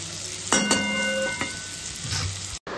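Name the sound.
potatoes and bitter gourd frying in pan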